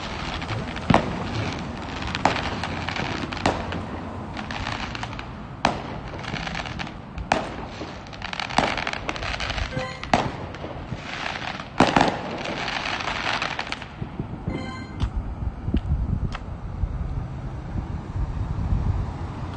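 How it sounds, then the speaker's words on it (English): Fireworks go off in a string of sharp pops and bangs, some distant and some closer, with crackling and wind noise between bursts. "The fireworks are over here."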